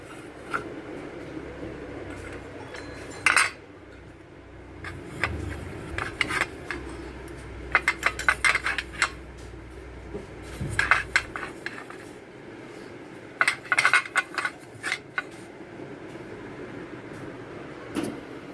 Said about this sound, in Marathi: सर्व प्लेटला तेल लावून घेऊ अशा प्रकारे सर्व इडल्यांना तुम्ही इडले पात्रांना तेल लावून घ्यायचं आहे